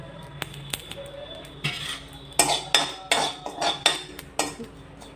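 Ajwain (carom seeds) are stirred while roasting in a pan, with a spoon scraping and clinking against the metal in a quick irregular series of close, bright taps.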